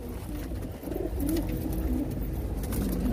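Pigeons coo softly and repeatedly in a low, rolling murmur, close by over a constant background hum.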